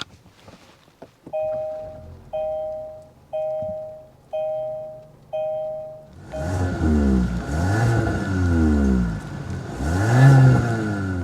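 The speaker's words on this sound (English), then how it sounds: "start it up, so you can hear that exhaust note." Five evenly spaced electronic chimes, then a 2024 Kia K5 GT-Line's engine starts and revs repeatedly, the exhaust note rising and falling loudly nearby.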